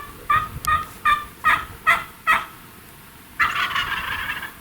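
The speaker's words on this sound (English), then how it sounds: "the turkeys are gobbling" A wild turkey gobbles in a quick string of five or six loud, rattling bursts, followed by a longer rolling gobble, all close and clear with no talk over it.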